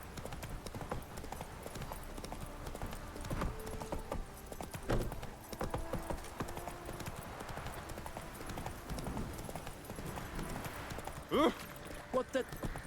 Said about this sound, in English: Oh, all horses sound the same.